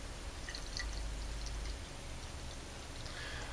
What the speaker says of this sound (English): let's give it into a pour here into this glass